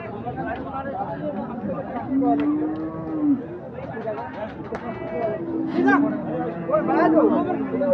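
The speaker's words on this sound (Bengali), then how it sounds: "আমরা দেখছি এখানে একটি ফ্রিজিয়ান" Friesian bull cattle at a rural livestock market, loud drawn-out moos repeating close by over a steady babble of crowd chatter.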